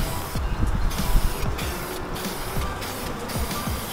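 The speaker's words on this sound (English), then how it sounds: "I'm gonna go ahead and spray our clear coat." Steady hissing of a spray gun applying clear coat to a Nissan 350Z's door jambs, loud and close, continuous throughout with brief changes in texture and no voices.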